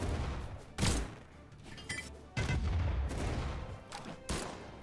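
Cannonballs firing in the Brawlhalla fighting game, several heavy booming blasts at irregular intervals over a busy rumbling game background, with no talk.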